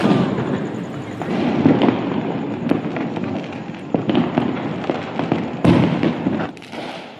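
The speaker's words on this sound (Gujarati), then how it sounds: "ચારે બાજુ નકરા ફટાકડા ફટાકડા ને ફટાકડા જ ફૂટે છે" Diwali firecrackers burst all around in Bhavnagar, sharp bangs and pops at irregular intervals, some near and loud, others farther off, over a constant crackling din.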